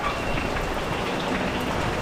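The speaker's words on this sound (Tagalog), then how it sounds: "Napakalakas ng ulan." Heavy rain pours down steadily around a hut, a dense, even hiss of drops drumming on surfaces with no talking.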